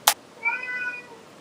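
A cat gives a single clear, close meow after a sharp click, in a quiet kitchen while duck livers are being prepared for pâté.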